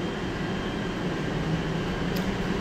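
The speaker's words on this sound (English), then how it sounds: "We're starting on the train that will be the front train car" Riding aboard the automated people-mover train at Denver International Airport: a steady rumbling, whooshing cabin drone with a constant low hum that runs smoothly throughout, with no voices.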